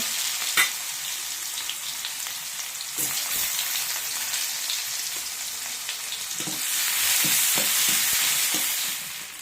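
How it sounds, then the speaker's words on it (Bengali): Shrimp and onions frying in a pan give a steady hissing sizzle, with occasional clicks of stirring; the sizzle swells louder near the end. "চিংড়ি মাছ আর পেঁয়াজ দিয়ে ভাজা করব"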